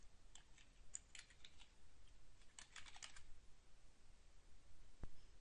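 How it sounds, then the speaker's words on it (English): Someone types a search keyword on a computer keyboard, a quick close run of light plastic key clicks in two short bursts, followed by a single sharper click. "I'll type in the keyword in the second search box."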